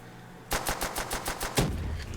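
A 1911 pistol chambered in .45 ACP fires in Black Ops 3 custom zombies, a rapid string of about eight crisp synthetic gunshots in quick succession after a brief lull, each with a sharp attack.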